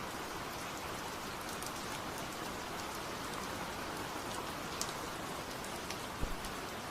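Steady, soaking rain falls with an even hiss of dense droplets and a few louder drips close by, with no voices.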